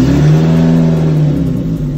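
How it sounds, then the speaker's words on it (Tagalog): A motorcycle fitted with a Limitless Scav 18-inch exhaust idles and revs, a loud, full, steady engine drone close up that rises slightly then settles and holds for two seconds, with no talking. "Bale maingay din naman tong scab, pero yung pagkaingay niya buo yung tunog niya."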